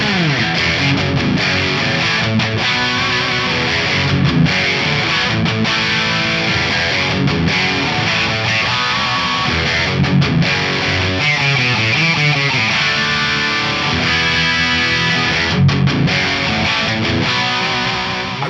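Thick, heavily distorted electric guitar through a Headfirst ALTA P1 and Fractal VP4 rig in thick modern amp mode plays chugging riffs and chords continuously, loud and saturated with a wide, slightly chorused sheen.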